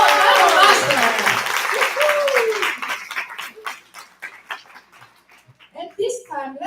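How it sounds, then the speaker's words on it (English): An audience at a member event applauds for the master of ceremonies, with applause mixed with cheering voices that thins into sparse claps and scattered chatter. "Let's give another round of applause for Nicole, our master."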